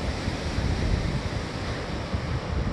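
Ocean waves breaking on Hapyeong Beach, a steady close wash of surf mixed with wind buffeting the microphone, continuous and moderately loud with no speech.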